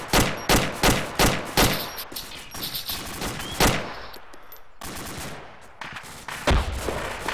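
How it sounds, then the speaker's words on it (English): Heavy gunfire in a multiplayer military shooter game near a forward operating base, rapid overlapping bursts of automatic fire and sharp single shots cracking close by from many directions, loud and relentless with brief lulls. "MMG is taking heavy fire from all directions."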